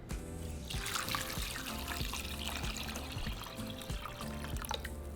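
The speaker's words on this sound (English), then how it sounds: "Now we're going to cover them with water." Water runs steadily from a tap and splashes into a pot holding chopped carrots and potatoes, a continuous close trickling and gurgling with no speech.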